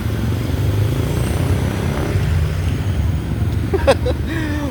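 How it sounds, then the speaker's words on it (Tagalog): Heavy road traffic around someone riding in the Philippines, a steady close rumble of passing engines and wind noise, joined near the end by a short whine and a rising tone like a horn or brakes. "Hindi ang traffic, grabe."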